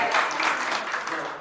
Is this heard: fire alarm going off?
no